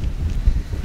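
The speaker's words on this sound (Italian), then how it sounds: "a spostare le persone questo vento, ma si gioca." Strong wind buffets the microphone at an outdoor amateur football match, a heavy low rumbling roar with gusty surges and no other clear sounds.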